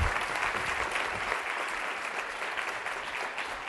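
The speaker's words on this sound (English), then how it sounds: "So please, a warm round of applause for Mr. Saleem Ali and Ms." An audience at a university lecture event gives a warm round of applause for the speakers, a dense, steady clapping that fills the whole clip at a moderate distance.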